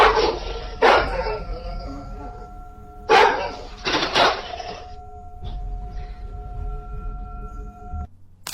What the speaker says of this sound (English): a pet dog begins barking intensely at the front door, refusing to calm down or step back